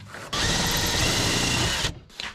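A power drill drives a screw into a buggy, whirring loudly and steadily for about a second and a half before stopping abruptly, followed by a brief softer burst.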